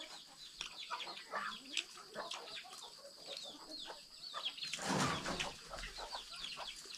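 Chickens cluck and chatter nearby in a busy, irregular stream, with one louder flurry of squawking partway through.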